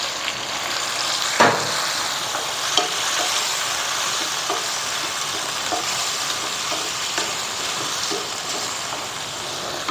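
Steady sizzle of water hitting a hot pan while chicken for Mee Kungfu is stirred, with a few scraping clicks from the utensil against the pan, continuous and close throughout.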